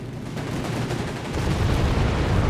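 Gunfire from a unit engaging a German Panzer in a building in Company of Heroes 3, a dense, rumbling battle mix of distant shots and low booms, swelling louder in the second half.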